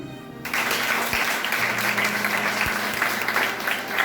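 Sustained applause from a conference audience at a French-language training seminar breaks out after a brief quiet moment and holds steady, dense and fairly loud, with no talk over it.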